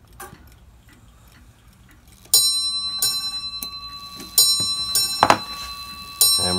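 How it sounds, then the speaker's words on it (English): A clock ticks quietly, then a series of bright hammer-struck chimes from a Seth Thomas Model 1314A carriage clock ring at uneven intervals, each ringing out and decaying, loud and close. "The chimes are looking good. Show you how they go."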